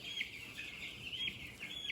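Young meat-breed chickens of a brown Freedom Ranger type peep in high, thin chirps, several short calls repeating close by over a constant background hum, with no talking.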